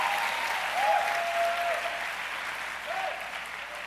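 A church congregation claps steadily in a dense burst of applause, loud and continuous for several seconds, with a few voices faintly audible underneath.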